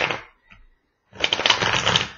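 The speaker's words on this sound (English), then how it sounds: "One more shuffle, and then we're going to cut and we're going to lay them out." Brisk riffling of a tarot deck, a short burst, a pause with a faint tap, then a longer rapid flutter of shuffling, close up.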